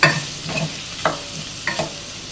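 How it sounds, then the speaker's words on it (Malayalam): Potato pulao with basmati rice stirred in a frying pan: a steady sizzle runs throughout, broken by three or four distinct scraping strokes of the spoon against the pan, close and fairly loud, with no voices. "നല്ലതുപോലെ ഒന്ന് ഇളക്കി മിക്സ് ചെയ്യാം"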